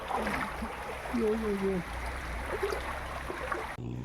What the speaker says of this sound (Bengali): আবার কিন্তু জল স্পিডে চলে আসছে